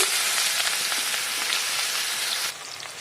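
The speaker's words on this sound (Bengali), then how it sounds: "মাছগুলো ভাজা হয়ে গেছে ওই তেলেতেই পেঁয়াজ দিয়ে দিচ্ছি" Onions sizzle hard in oil left over from frying fish, a loud, dense, continuous crackle close up that drops suddenly in level near the end, with no talking.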